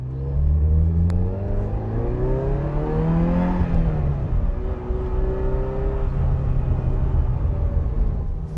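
A 1986 Ferrari 328 GTB engine burbles while driving, a close, continuous rumble that climbs in pitch as it accelerates, eases off, then picks up again.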